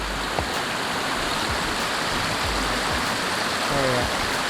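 A shallow creek flowing over rocks while someone walks it searching for old glass, a dense, continuous rushing and babbling that stays close and steady throughout.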